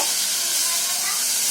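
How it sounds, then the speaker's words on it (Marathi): Grated jaggery and coconut filling stirred in a pan over low gas, giving a soft, continuous sizzling hiss throughout. "अलगद ढवळायचं."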